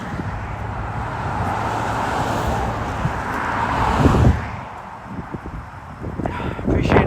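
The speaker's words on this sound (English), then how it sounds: "Really frustrating trying to chat with all these cars here." Cars passing on a road beside a park trail in autumn, a continuous roadway rumble with wind that swells as one vehicle goes by midway, then fades and builds again.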